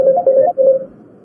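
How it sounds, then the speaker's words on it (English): Telephone lines ring during a live radio broadcast, a loud warbling electronic tone pulsing in short bursts before fading out, with no talk over it. "I can hear the phone lines ringing"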